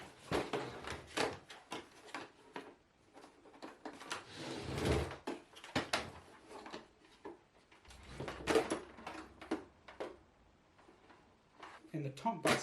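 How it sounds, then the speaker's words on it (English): An Oase Biomaster Thermo external aquarium filter is unclipped and opened, giving a run of sharp plastic clicks, knocks and sliding scrapes. A person talks intermittently over the handling sounds. "So let's open up this filter,"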